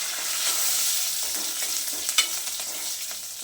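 Green chili and curry-leaf tempering for kokum kadhi sizzles steadily in a hot pan, a close bright frying hiss with a few sharp spits and stirring sounds, no talk.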